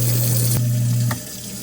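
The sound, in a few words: kitchen sink garbage disposal running with water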